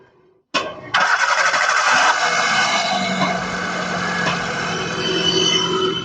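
A 2011 Maruti Suzuki Zen Estilo that had a broken distributor cranks briefly, then its engine catches and runs at a steady, bright idle, close by and without any talking.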